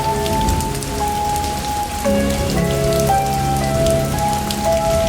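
Steady rain pours on a dark, rainy night, a dense even hiss of drops hitting surfaces, with soft sustained musical tones underneath.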